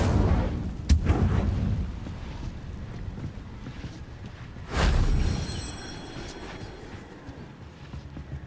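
An Incendio fire spell in Hogwarts Legacy flares in two sharp bursts, one early and a stronger whooshing blaze midway that fades slowly into a low ambient bed.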